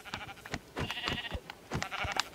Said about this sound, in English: Okay, so I could just fight that sheep